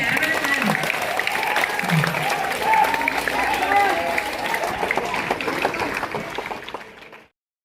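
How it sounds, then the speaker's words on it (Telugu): Applause at a Republic Day gathering, a dense sustained clapping from a crowd with voices mixed in, fading out at the end. "గట్టిగా క్లాప్స్ పెట్టండి"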